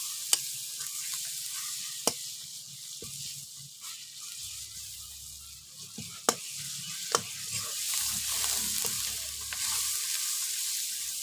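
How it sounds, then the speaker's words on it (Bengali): Spice paste with tomatoes for tilapia curry sizzles steadily in hot oil as it is stirred in a pan, with sharp scraping clicks from the spatula scattered throughout. "মশলাটা ভালো করে আমি কষিয়ে নিচ্ছি।"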